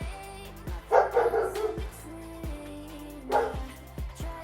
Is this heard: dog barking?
yes